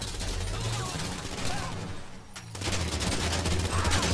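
Rapid gunfire from a weapon in Grand Theft Auto 5 rattles in dense bursts, loud and continuous, dropping briefly before resuming as a sustained fusillade.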